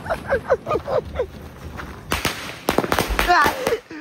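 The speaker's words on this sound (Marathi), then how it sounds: "तुझे फटाके पायात फोडता" Diwali firecrackers bursting close by in a street, a rapid cluster of sharp loud pops and crackles following shouting voices and excited talk.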